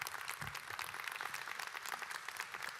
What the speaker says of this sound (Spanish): Eso no se merece un aplauso.